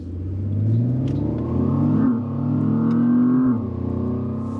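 Simulated V6 engine note chosen from a car's sound menu, a steady synthetic rumble that rises in pitch as if revving, dips briefly, then climbs again before settling, loud and close with no talk.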